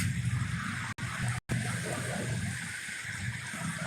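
A small creek flows beneath a cement drain culvert among trees, a steady rushing, gurgling wash of water with a couple of brief dropouts.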